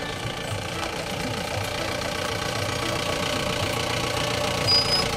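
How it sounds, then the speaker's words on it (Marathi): A vehicle engine rumbles steadily as it pulls up at a village stop, a low, even drone that holds at moderate loudness for the whole stretch with no voices over it. "गाडी आली मी पुढे जातो"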